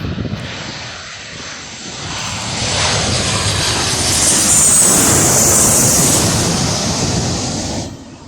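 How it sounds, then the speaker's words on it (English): A Jet2 Boeing 737 comes in to land at Birmingham Airport. Its broad jet roar builds up loud and close, holds at a peak, then cuts away, with no talk over it. "we've got a plane landing. I'm going to turn my camera and see what plane it is. Jet 2, Boeing 737."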